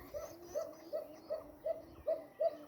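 Koka pigeons, including a well-grown youngster, coo in a soft repeated rhythm, about seven evenly spaced calls close by but faint, with no talking.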